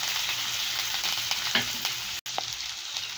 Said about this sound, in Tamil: இது வறுப்படட்டும்.